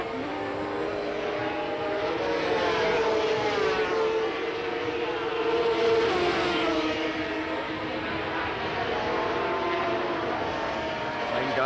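1987 Portuguese 500cc Grand Prix, with Honda and rival two-stroke racing motorcycles screaming past in a continuous, rising and falling engine wail over a loud crowd-and-track roar, a commentator speaking over it.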